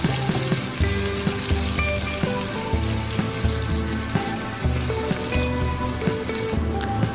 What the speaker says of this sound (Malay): Kemudian kita boleh goreng bahan yang telah kita gaul tadi sehingga garing dan kegerangan.